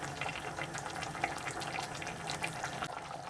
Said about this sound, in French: Si vous voulez un curry un peu plus liquide, ajoutez le reste du bouillon